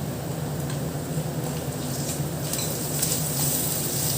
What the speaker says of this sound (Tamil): நல்லா பச்சை வாசனை போகிற வரைக்கும் நல்லா வதக்கி விட்டுறலாம்.